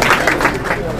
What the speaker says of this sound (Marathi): टाळ्यांचा आवाज कमी होऊ देऊ नका